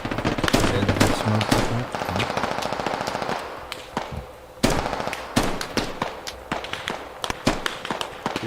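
Rapid bursts of rifle and machine-gun fire crackle in the tactical shooter Squad, dense volleys early, then scattered close shots after a brief lull, with a voice speaking over the battle.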